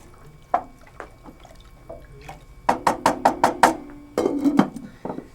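Lentils stirred into a simmering Irish stew pot, a spoon knocking and scraping against the pot in a quick run of close, hollow clacks over a soft bubbling wetness, with no talking.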